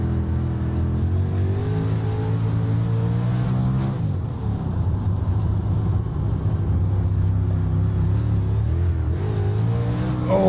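A Super Dirt Late Model race car at Weedsport Speedway in iRacing, its engine roaring steadily as the tire spins, with a brief pitch dip midway before climbing again, loud and continuous.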